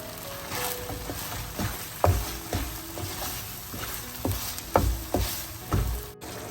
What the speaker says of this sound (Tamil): இந்த நேரத்துல நான் சீனி சேர்க்க போறேன். நான் 1 கப் அவலுக்கு 1/2 கப் சீனி சேர்க்கிறேன்.